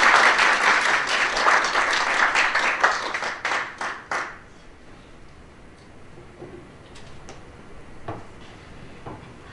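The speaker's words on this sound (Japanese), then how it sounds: "それでは大きな拍手でスタートです。" Audience applause at a lobby concert before a marimba performance in a mountain lodge, a dense burst of clapping for about four seconds that then fades into quiet room ambience with a few scattered claps.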